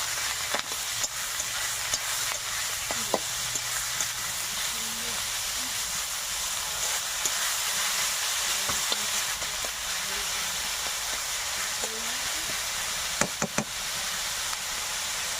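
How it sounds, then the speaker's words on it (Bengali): Mixed vegetables and prawns frying and being stirred in a wok, a continuous hiss and sizzle broken by occasional knocks of the spatula against the pan, close and steady. "একটু নাড়াচাড়া করে নেব।"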